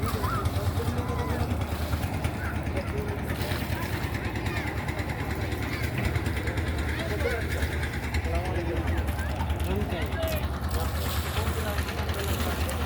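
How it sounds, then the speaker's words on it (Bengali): A small dinghy's engine putters steadily on a river at a ferry ghat in the evening, a continuous low drone with faint voices underneath. "ছোট্ট একটা ডিঙি নৌকা সে রওনা দিল"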